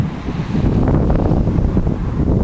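Strong wind blows across an open hillside at Forret Hill in Fife, loud and gusty, buffeting the microphone with a rough, continuous roar.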